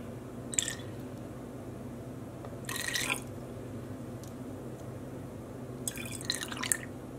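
Water is carefully added to a stock solution in a few short, faint trickles and drips, separated by quiet pauses, against a low steady background hum.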